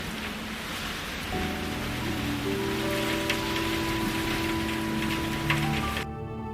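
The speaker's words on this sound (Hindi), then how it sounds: "अचानक तेज बारिश शुरू हो जाती है" Steady, dense rain hiss fills the whole stretch, with a low sustained tone underneath, cutting off abruptly near the end.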